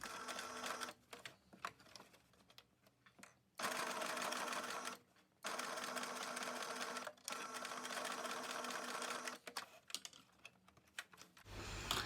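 A sewing machine stitches short seams across the folded corners of a fabric storage basket, running in close, rapid whirring bursts broken by brief stops between passes.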